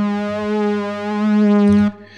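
A sustained FM8 synthesizer ambient pad patch with gentle vibrato, holding steady harmonic tones that swell slightly before cutting off near the end, close and clean with no voices.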